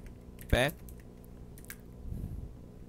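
A quick keyboard shortcut, Ctrl+Y, pressed on a computer keyboard while working in After Effects: one short, sharp key click close by, followed by quiet room tone and a faint soft rustle.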